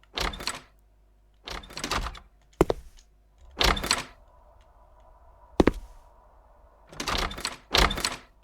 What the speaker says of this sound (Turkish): bu bir sürü kapı sesi geliyor